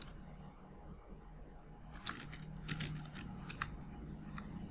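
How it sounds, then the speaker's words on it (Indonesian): Keys clatter on a computer keyboard in short, quiet bursts of clicks, with a brief louder tap partway through and a few scattered keystrokes after it, over a faint room hum. "kita bisa ketikkan bahwa ini adalah penelitian kita"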